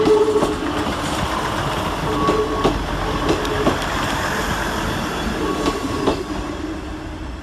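A Northern Rail class 158 diesel unit from Leeds pulls into Carlisle station, a steady close rumble of rolling stock with wheel clicks and faint squeals.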